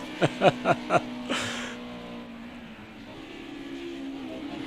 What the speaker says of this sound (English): I'm battling to hear over the sound of the cars